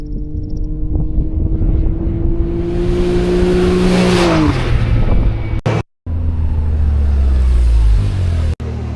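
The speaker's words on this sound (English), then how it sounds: "Wow, 200 horsepower turbo, unbelievable acceleration." A Can-Am X3 Max Turbo side-by-side with a 200-horsepower turbo engine accelerates loudly and close by. The engine climbs steadily in pitch, then drops and changes tone, and the sound briefly cuts out twice.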